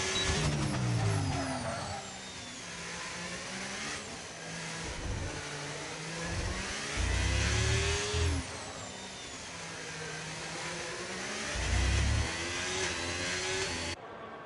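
A Haas F1 car's engine screams through a qualifying lap in a racing game, revving and dropping with gear changes, loud and continuous under a bed of game audio.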